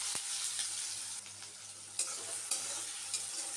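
Cut carrots frying in a pan for egg chow mein, a faint steady sizzle with a few sharper scrapes and clicks of stirring, close but quiet, no talking.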